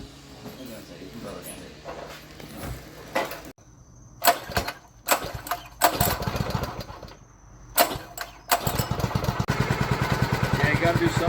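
A small mini bike engine sputters and revs in short bursts before settling into a steady buzzing run, close by, with people talking between the bursts.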